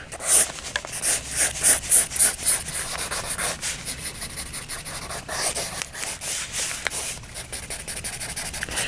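A pencil scratching and rubbing across paper close up, with a quick burst of short strokes early on, then steady soft scribbling throughout.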